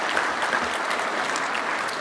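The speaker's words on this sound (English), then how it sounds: "Round of applause again." Audience applause at an awards dinner, a steady burst of many people clapping, fairly loud and uninterrupted across the brief stretch.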